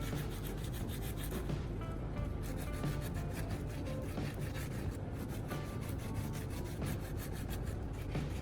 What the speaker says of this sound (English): use a strip of sandpaper to scrub them down to bare, shiny metal